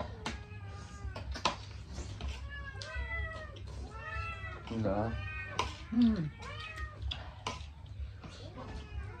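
A hungry cat meows repeatedly in a home, a series of close drawn-out meows and a caterwauling wail, mixed with people talking.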